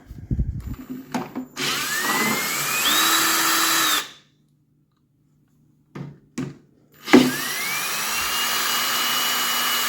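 A 10mm socket on a power driver spins out the two carburetor bolts of a Toro snow blower: two long, loud whirring bursts with a rising whine, separated by a silent pause and a few short clicks.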